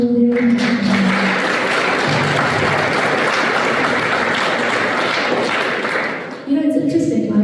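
Dense, loud applause from a large audience at a youth faith program in Auckland, sustained steadily for about six seconds before fading, with a voice starting to talk as it ends.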